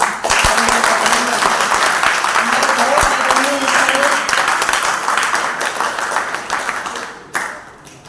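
Sustained audience applause at a Sanskrit Day seminar and goodwill gathering, dense and steady for about seven seconds before tapering off, with a few scattered voices beneath.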